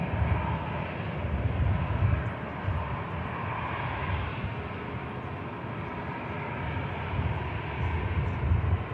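Airbus A330neo airliner at Manchester Airport, a loud steady jet engine roar that swells and eases slightly throughout, heard alone without talk.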